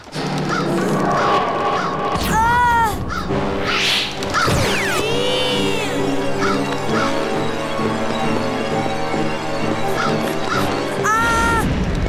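Crows caw and honk in a cartoon, their harsh calls bursting out in repeated loud squawks among cartoon crashes and whacks, with several bouts spread across the scene.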